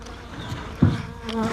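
Honeybees drone steadily around nucleus hives in a small backyard bee yard, a close continuous buzz with one brief louder thump partway through and no talking.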